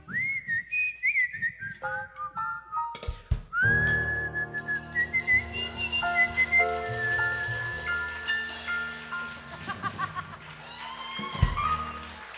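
Someone whistles a short, lilting melody live on a talk-show style program, the clear whistled notes rising and falling in a continuous tune with a few breaths between phrases.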